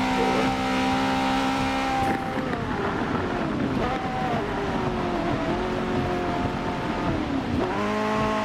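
Simulated racing car engine in a rainy video game race, a loud sustained whine with shifting pitch as gears change, steady throughout with no talk.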